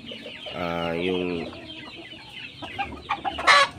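Backyard chickens kept for meat give one drawn-out, close call followed by scattered softer clucks, with a brief human word spoken near the end.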